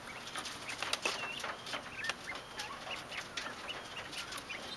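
Bobwhite quail in an outdoor backyard pen give short chirps and calls, scattered across a quiet rural setting with faint background ambience and no talking.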